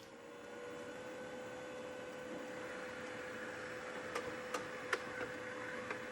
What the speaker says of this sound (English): Push the paper in gently until the printer grabs it, then let go and allow the printer to do the rest